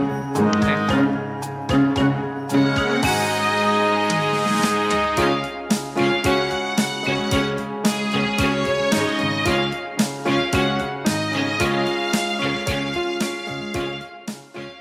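Orchestral fantasy soundtrack from the Timecrest game on iOS, full and continuous with sweeping layered instruments and steady rhythmic accents, playing loud throughout with no talking.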